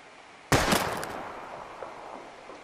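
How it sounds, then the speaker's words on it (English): A single loud, close gunshot in Life Is Strange, fired at bottles, a sharp crack followed by a long fading echo and faint rattling, with no talking. "We're gonna shoot all these bottles without wasting a single bullet"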